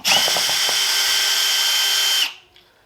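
An electric screwdriver whirs loudly and close in a kitchen, a short starting burst followed by a steady high motor whine for about two seconds before it winds down and stops.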